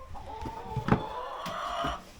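Backyard chickens clucking close by, a series of short bursts and murmuring calls with a couple of sharper squawks, fairly quiet with no talk.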